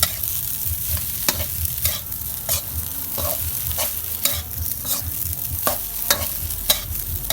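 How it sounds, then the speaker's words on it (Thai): Shrimp and bacon are stir-fried with rice in a pan, giving a steady loud sizzle broken by repeated sharp scraping strokes of the spatula at an irregular rhythm. "เอามาผัดรวมมากับข้าวไปเลย"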